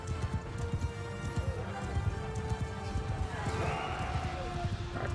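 Horse hooves clip-clopping steadily in the medieval combat game Mount & Blade II Bannerlord, with a brief whinny and battle ambience layered over the continuous galloping rhythm.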